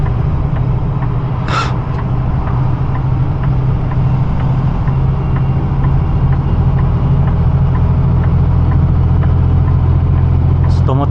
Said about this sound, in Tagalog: Exhaust brake tayo.